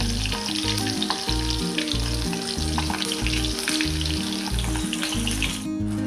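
Stuffed capsicum sizzles and crackles steadily in hot oil, close up and unbroken.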